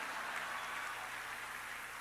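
Audience at a motivational talk in Curitiba clapping, a dense, even burst of applause lasting about two seconds with no voices over it.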